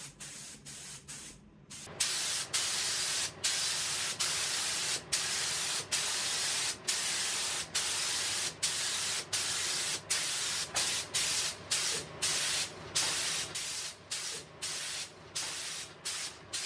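Spray finish applied as a final coat to a steel table, a close, loud hiss in rhythmic bursts separated by short regular breaks, with no voices.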